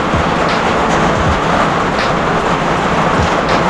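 Steady rain falls without pause on an outdoor garden or plant plot in wet weather, a dense, even hiss that fills the whole stretch with no voices over it.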